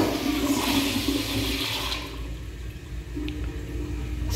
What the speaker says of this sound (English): so let's try a third flush.